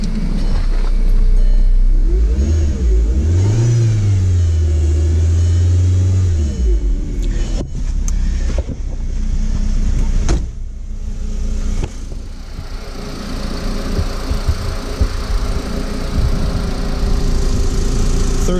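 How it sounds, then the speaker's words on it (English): The engine of a Volkswagen Jetta with a failing alternator and voltage regulator is revved up from idle and held, then allowed to settle back down. The steady, close engine drone continues under some faint background noise. "Let's see what happens when we rev it up"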